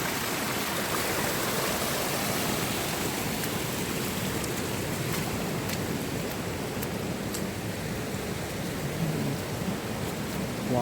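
Cyclone floodwater rushes through submerged village farm fields in a dense, steady roar that holds constant for the whole stretch, with no voices over it.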